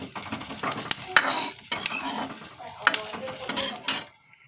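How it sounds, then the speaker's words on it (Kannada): Tomatoes frying with garlic and curry leaves in a pan for sambar, heard as loud metal spatula scrapes and clanks over a light sizzle, stirring in bursts before falling quiet at the end. "ಈಗ ಬೆಳ್ಳುಳ್ಳಿ ಮತ್ತು ಕರ್ಬೇವನ್ನ ಹಾಕಿದ್ದೀನಿ ಟಮೆಟನ್ನು ಇನ್ನೂ ಸ್ವಲ್ಪ ಫ್ರೈ ಆಗಬೇಕದು"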